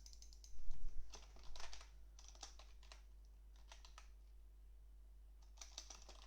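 Typing on a computer keyboard, a soft, close patter of key presses in short clusters, quiet overall with a steady low hum underneath.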